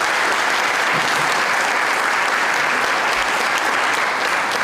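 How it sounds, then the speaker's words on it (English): An audience at a master of occupational therapy pinning ceremony gives Dr. Michelle Shepard a round of applause, which comes across as a loud, dense, continuous wash of clapping that holds steady and stays unbroken across the whole stretch. "Michelle Shepard a round of applause."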